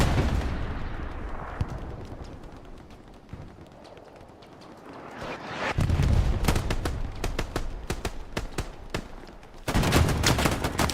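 Rapid bursts of STG assault rifle fire in the World War II shooter Hell Let Loose, a dense crackle of loud, close shots in two intense volleys with distant gunfire and rumble between them.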